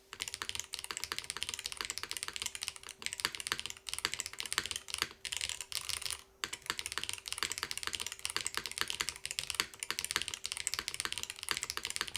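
Continuous fast typing on a mechanical keyboard with Hall effect switches, close and crisp, a dense stream of clacky keystrokes with only a brief pause midway and no talking.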